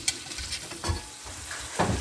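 Steak fries in a pan with a steady soft sizzle, punctuated by a few scraping stirs and spatula taps, heard close with no talking.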